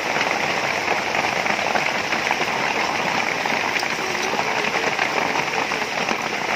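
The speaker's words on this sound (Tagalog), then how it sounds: "Lakas ng ulan, no?" Heavy rain pours steadily and densely throughout, a loud continuous hiss of drops drumming on surfaces with no voices.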